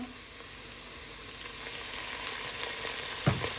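Dragon chicken sizzles in a hot pan with tomato sauce as it is stirred, a soft continuous frying hiss with one louder scrape near the end.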